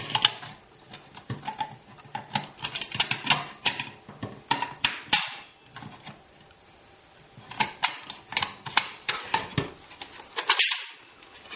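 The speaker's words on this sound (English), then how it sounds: "And then we'll simply reinstall recoil spring and the AK receiver cover itself." Recoil spring and receiver cover being refitted on an AK-pattern Draco pistol, heard as close, irregular bursts of sharp metallic clicks and taps, with brief pauses between handling sounds.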